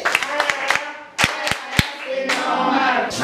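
Classroom applause for a student named Kabengele: scattered claps at first, then a few sharp single claps, building into fuller clapping from several people near the end, with voices faint underneath.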